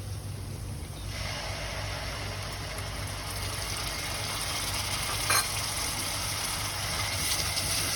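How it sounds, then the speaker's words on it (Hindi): A steady, close sizzle of tomato, onion and ginger-garlic paste frying in a pan begins after a quiet second and continues evenly, with a low hum underneath. "अब इसको टमाटर और अदरक लहसुन और प्याज को तीनों चीज़ों को भूनूंगी"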